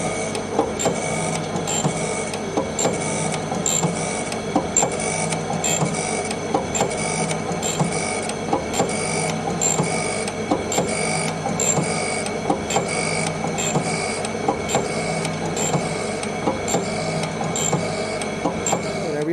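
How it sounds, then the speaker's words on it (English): A grinding machine works on the support of an engine's centre main cap, giving a steady loud mechanical whir with rapid regular ticking throughout, with no talk over it. "we might as well grind it."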